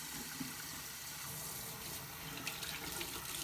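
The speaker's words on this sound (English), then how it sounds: "I'm going to start by just rinsing my face off" Tap water runs steadily into a sink during face rinsing, a soft, even splashing hiss at low level with no talking.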